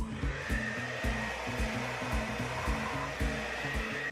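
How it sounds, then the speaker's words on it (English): A blow dryer runs steadily on its high heat setting, a loud continuous whoosh of airflow with a rhythmic pulsing hum underneath, held close throughout. "put my blow dryer on the high heat setting"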